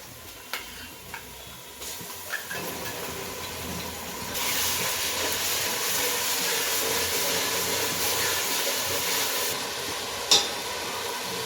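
Onion-garlic paste hits a hot pan for veg paneer biryani, bursting into a loud, steady sizzle that holds for several seconds after a quieter opening, with a small tick near the end.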